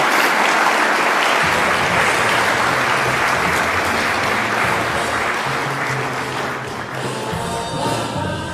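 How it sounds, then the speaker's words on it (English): Conference audience applause as a speaker is welcomed to the stage at the NICE Conference and Expo in Denver: loud, sustained clapping from a large crowd, with low thuds and a faint musical undertone joining partway through. "join me in a round of applause"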